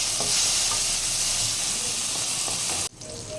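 Chopped tomato dropped into hot oil tempered with black cumin in a kadai for a Bengali hilsa fish recipe, giving a loud, dense, continuous sizzle. It cuts off abruptly near the end, and a quieter hiss follows. No one talks.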